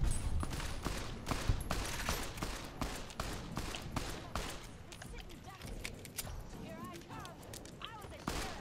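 Gunfire in the video game Fallout: New Vegas, a rapid run of sharp shots over the first half that thins into scattered reports, with a voice and some game sounds in the background.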